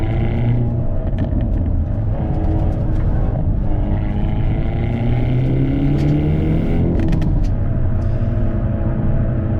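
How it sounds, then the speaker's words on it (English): A Hyundai Elantra N, front-wheel drive on Michelin Pilot Sport 4S tires, is pushed hard through a corner. Its engine drones loudly and steadily from inside the cabin, rising and falling in pitch as the throttle is worked. "kind of sucking you into the corner as you're really throttling it"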